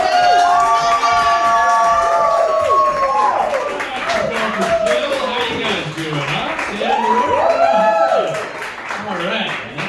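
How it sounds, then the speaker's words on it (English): Loud crowd at a stand-up comedy show cheering, whooping and clapping as a comedian takes the stage, with shouts and high voices rising and falling over continuous applause. "Start clapping now"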